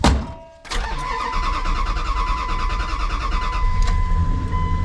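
A truck engine with its check engine light on runs steadily after a brief quiet start, a close, continuous mid-pitched drone with a faint whine on top and no talking.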